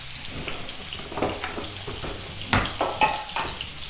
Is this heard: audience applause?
no